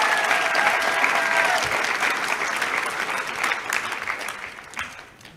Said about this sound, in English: A final round of applause for the creative technology students.